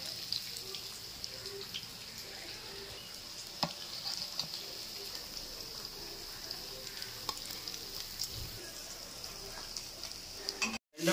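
Fish fries in a pan with a soft, steady sizzle that holds faint and even throughout, broken by an occasional light clink.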